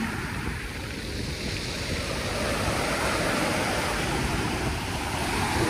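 Surf washes ashore at Dolomite Beach on Manila Bay, a dense continuous rush of waves with wind buffeting the microphone, loud and close.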